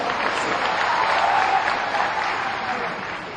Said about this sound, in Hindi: बहुत एक जोरदार तालियों के साथ